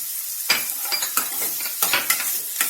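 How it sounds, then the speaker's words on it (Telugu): Sliced onions sizzle steadily in hot oil in a pan of samosa filling while a spoon scrapes and stirs them in repeated sharp clicks. The sound is close and clear, with no voices. "ఉల్లిపాయలు కూడా వేసాను"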